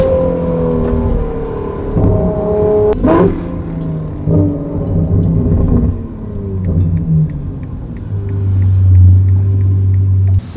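A Ferrari 458 engine rumbles and drops through downshifts, its loud, close tone stepping down in pitch with brief blips, then settling into a deep steady drone at the end.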